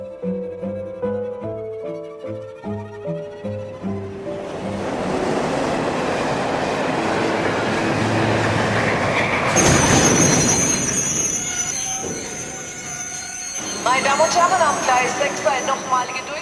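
In a Korean radio literary reading, a train sound effect plays: rhythmic clickety-clack over the rails builds into a loud rolling rumble with squealing wheels and brakes as the train pulls into a station, heard with no talk over it.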